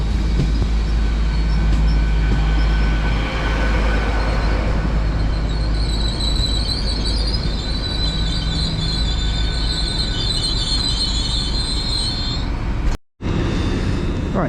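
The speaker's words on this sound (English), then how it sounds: "the partner now is going to be the 10:40 LNER service from Leeds to London King's Cross" An LNER passenger train passes through Newark North Gate station, a steady loud rumble of wheels on rail with high squealing tones building mid-pass, then a brief cut before the rumble resumes.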